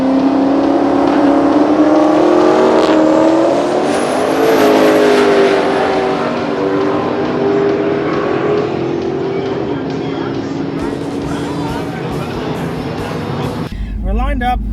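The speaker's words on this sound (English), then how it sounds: "We're lined up, we're about to go racing." A Ford Mustang engine drones steadily at a quarter-mile drag race start, its pitch climbing as it revs, with a loud, continuous roar that stays close throughout.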